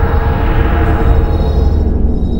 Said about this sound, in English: And then one of my favourite ones is the throttle with the 2017 sounds.